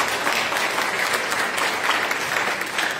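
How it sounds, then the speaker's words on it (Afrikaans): A church congregation applauds for its Sunday school, steady dense clapping from a room full of people that fills the whole moment without a break. "Geef ons sonnaskool net 'n lekker hande klap."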